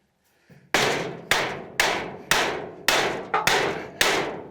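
A big hammer strikes a jammed part on an old crane in seven loud, heavy blows at a steady, roughly half-second rhythm, each a sharp metallic bang with a ringing decay, close by with no talk.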